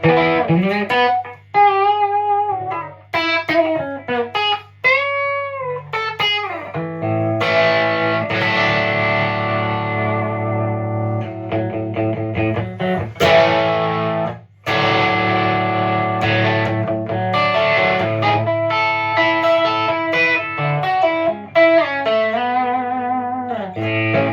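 Overdriven electric guitar on humbucker pickups plays a continuous run of notes and chords for over twenty seconds, thick and saturated, close and loud with only brief pauses.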